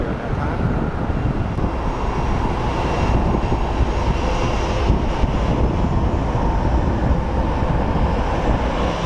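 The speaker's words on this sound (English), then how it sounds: "we do have our old 767 powering up. Let's see this bad boy take off and hear the roar of the engines" An old Boeing 767 at Sky Harbor Airport roars on takeoff, a steady, loud, broadband jet rumble that holds for several seconds with no voices over it.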